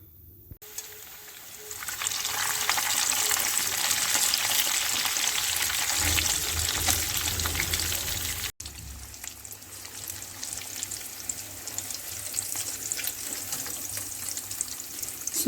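Spicy chicken frying in hot oil: a loud, even sizzle that builds quickly, drops out for an instant, then carries on as a steady crackling hiss without speech.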